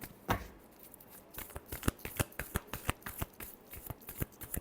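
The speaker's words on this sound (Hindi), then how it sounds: "last shuffle" Tarot cards shuffled by hand in a quick, steady run of crisp riffling snaps, close and fairly quiet, with no voices.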